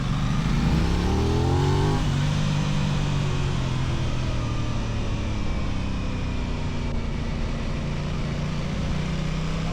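An Aprilia RS660 Factory sport motorcycle with an up-down quick shifter drones steadily under riding, its engine note stepping through a gear change early on before settling into a sustained loud whine over wind noise.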